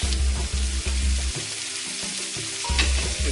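Squab pieces fry skin side down in a hot pan, a strong, continuous close sizzle broken by repeated low thumps and shuffles as the pieces are moved and stirred.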